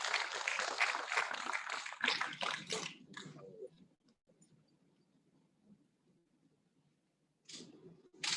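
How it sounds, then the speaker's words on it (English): Applause from an audience at a ceremony unveiling Nigeria @60 commemorative postage stamps, a dense broadband patter lasting about three seconds before fading into quiet room sound, then a fresh burst returning near the end. "let's encourage him with a beautiful round of applause"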